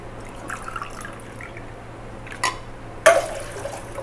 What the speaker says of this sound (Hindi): उसमें डालेंगे 6 गिलास पानी।